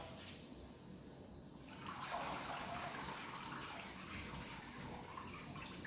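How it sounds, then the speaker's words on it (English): Water drains steadily off a bonsai tree lifted out of a water bath, a broad splashing trickle that swells after a quiet start and keeps running close by. "See that water draining off."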